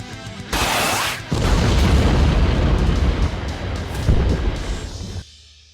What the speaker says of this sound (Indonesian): Ia pun dengan cepat segera mengambil tindakan dengan menembakkan rudal ke arah penjaga penjara yang menembakinya.